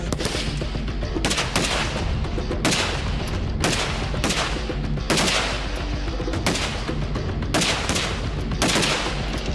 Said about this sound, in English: We're shooting out at, I think, 500-600 yards